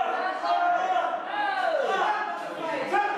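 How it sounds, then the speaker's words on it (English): A wrestling crowd at a Leeds venue cheers and chants for hometown hero Harry McDonald, a sustained wall of massed voices rising and swelling throughout. "This Lee crowd trying to get right behind their hometown hero, Harry McDonald."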